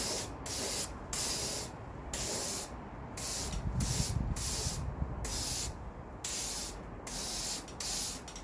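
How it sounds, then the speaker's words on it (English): Aerosol can spraying red oxide primer onto a rear panel of a Mazda MX-5 NC, in about a dozen short hissing bursts with brief pauses between, close and steady. "now I'm going to spray it with some red oxide primer"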